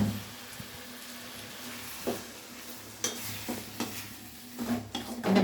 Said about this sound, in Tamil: எண்ணெயில் வதக்கணும்.